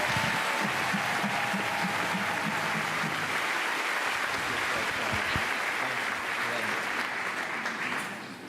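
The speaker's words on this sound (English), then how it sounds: "Let's give them a big round of applause." Sustained audience applause at a school convocation, a broad, even wash of many hands clapping that fills the hall, with faint voices underneath and a slight fade at the close.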